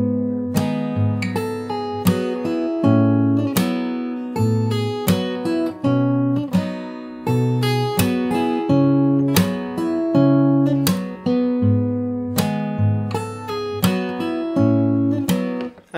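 Fingerstyle acoustic guitar played slowly through a song, a steady bass line under plucked melody notes in an even repeating pattern, close and clear with no voices.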